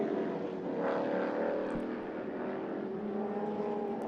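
A McLaren historic race car drives through turn 3 at a race circuit, its engine note a steady, fairly close roar with some pitch change, alone without voices.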